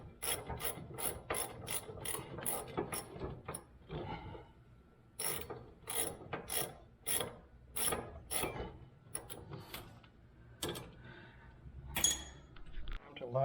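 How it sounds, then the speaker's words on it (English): A 14 mm ratchet clicks in quick bursts while tightening the two rear caliper bracket bolts on a 2000 Acura 3.2 TL. The close, fairly quiet clicking comes in two runs separated by a short pause, with scattered faint clatter. "take our 14 millimeter and tighten the two caliper bracket bolts"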